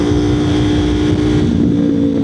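A motorcycle exhaust drones steadily while the bike cruises along, a loud, even engine note with no talking.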